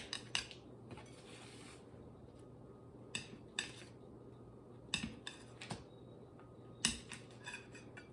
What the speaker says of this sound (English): So now I've got 4 sticks of butter, and now I'm going to cut each of those into 4 again